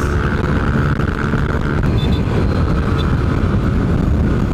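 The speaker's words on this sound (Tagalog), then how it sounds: "Malakas makina na ito" A Yamaha NMAX motor scooter engine runs steadily with a low, rough rumble mixed with wind noise, loud and continuous with no voices.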